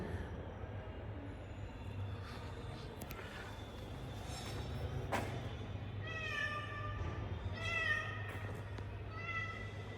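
A cat meows several times in quick bursts from beneath a car on a jammed city road, close and clear over a steady low rumble of idling traffic.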